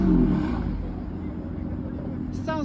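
BMW car engine revving, a loud low throaty rev at the start settling into a steady idle rumble, with a voice briefly over it near the end.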